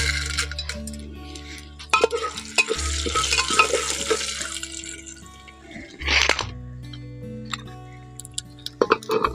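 Corn kernels crackle and sizzle in hot oil inside a pressure cooker, with sharp pops, stirring scrapes and clinks of a utensil against the metal pot, close and fairly loud with bursts of activity.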